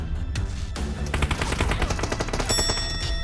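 Rapid automatic gunfire in a squad battle royale video game, a dense rattling burst of shots lasting a few seconds, loud and close with no talk.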